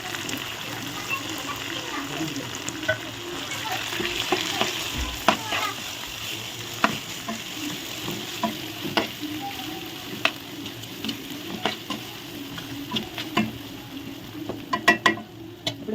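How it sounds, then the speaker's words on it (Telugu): Raw mango pieces fry in a pan with a soft continuous sizzle, broken by frequent sharp clicks and scrapes of a stirring spoon that grow busier toward the end, heard close and fairly quiet. "ఇప్పుడైతే వేగుతున్నాయి"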